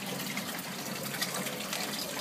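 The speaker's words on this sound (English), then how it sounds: "My grow bed is pumping water into this main tank far too quickly." Water gushing steadily from an aquaponics grow bed into the main tank, pouring in far too fast: a continuous, fairly loud rushing splash that runs unbroken from start to finish, with no voices.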